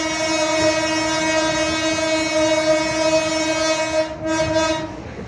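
KA Rajabasa passenger train heard from behind the locomotive, a loud sustained horn blast with rich harmonic tones over rolling rail noise, ending as the horn cuts off near the end.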